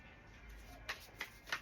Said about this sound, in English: Let's just do a little shuffle real quick.